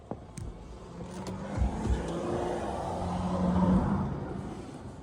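Cars pass on a nearby road, one engine swelling and fading over a few seconds with a low rumble, heard alone outdoors.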